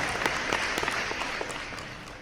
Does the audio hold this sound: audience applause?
yes